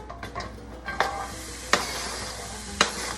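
Onions dropped into olive oil heated about 30 seconds sizzle steadily in a pan, with a few sharp clinks of a utensil stirring and coating them.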